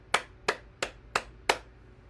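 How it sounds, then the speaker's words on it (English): Hands clap five times in a steady, even rhythm about a third of a second apart, each clap sharp and distinct, close and moderately loud, with no voices. "Clap your hands."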